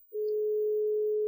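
A steady single telephone tone on a landline after dialing 1606, holding unbroken and fairly loud for over a second, with no speech.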